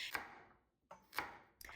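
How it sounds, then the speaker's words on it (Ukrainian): Knife chopping a small carrot of about 250 grams into large chunks on a board, heard as three crisp, separate cuts spaced roughly half a second to a second apart, close and fairly quiet, with no talking. "Я взяла ось таку невеличку моркву, її приблизно 250 грамів та нарізаю на крупні шматочки."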